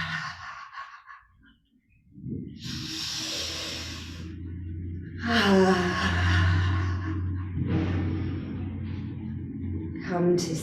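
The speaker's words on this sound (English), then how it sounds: "Two more big breaths." Slow, deep breaths during a yoga session: a few long, loud inhales and exhales, close to the mic, one after another with brief pauses.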